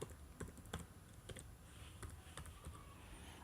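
A password typed on a computer keyboard during a census website login: faint, irregular key clicks in short bursts, with a slightly louder tap at the end.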